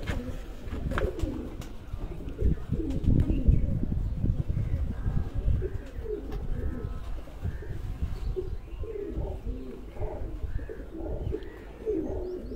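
Domestic pigeons, including a Chinese breed, cooing at a pigeon keeper's home in Sargodha, repeated low throaty coos overlapping in a loose rhythm, close by, with occasional chirps, rustling and faint background talk.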